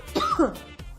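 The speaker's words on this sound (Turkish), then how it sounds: "niye öksürdüm ki ben?" A single sharp cough close to the mic, followed by a short throaty sound.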